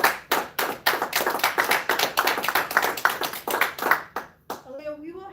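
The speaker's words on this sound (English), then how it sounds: "Can we give Thank you. Aaliyah a round of applause?" Applause at a school board meeting, a quick run of sharp claps from a small crowd filling about four seconds, then a voice speaks as it dies away.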